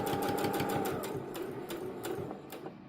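A sewing machine stitches fabric for a scrunchie in rapid, even mechanical bursts, close and clear, slowing and trailing off toward the end.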